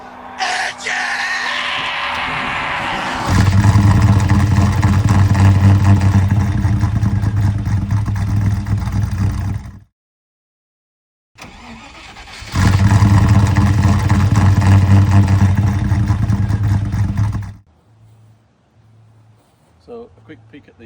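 A Land Rover 101 Forward Control with a special cam runs loudly and roughly, in two sustained bursts of heavy revving separated by a brief silence, with people yelling and whooping, then dropping to a low idle.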